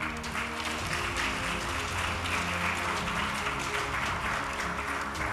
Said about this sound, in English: Can we give them a very good applause?